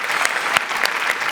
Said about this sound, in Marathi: वा वा वा जोरदार टाळ्या सगळ्यांसाठी